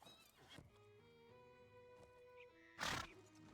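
A horse whinnies close by in the game Lord of the Rings Online, over a steady musical backdrop, followed by a short burst of louder noise near the end.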